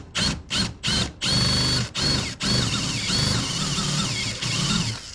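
A drill spinning a homemade flap sander bit made of sandpaper flaps, starting and stopping in several short bursts before running steadily with a whirring, flapping buzz close by.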